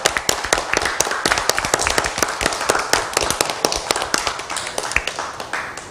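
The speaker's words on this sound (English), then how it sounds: "give yourselves a round of applause for being so great" A children's storytelling audience at a heritage house claps in a dense, rapid burst of sharp slaps, steady and close throughout before thinning out slightly at the end.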